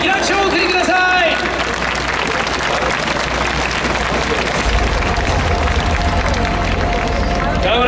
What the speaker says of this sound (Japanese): さあ今一度どうぞ大きな拍手をお送りください。